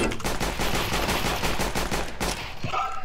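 Sustained rapid video game gunfire, a dense machine-gun burst that stays loud and continuous for nearly the whole stretch before a brief tonal blip at the end.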